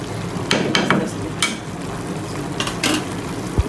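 Fish fries in a pan with other ingredients in a home kitchen, giving a steady sizzle close by. Occasional clinks and scrapes of a utensil against the pan cut through at irregular moments, with no talk.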